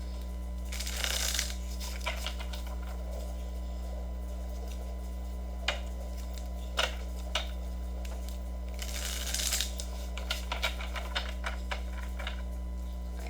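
Oracle cards being shuffled by hand in two crisp riffling bursts separated by scattered light taps and clicks, close and fairly quiet over a steady low electrical hum, with no talking.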